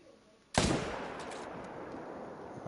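A single .300 rifle shot aimed at a deer in theHunter: Call of the Wild, one sharp loud crack followed by a long fading echo rolling across open terrain, with no talking.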